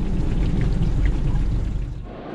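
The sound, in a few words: rain shower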